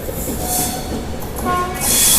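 From inside the Sabari SF Express pulling out of Kollam, a steady rumble of rolling coaches carries thin wheel squeals, with hissing bursts swelling at moments and loudest at the end.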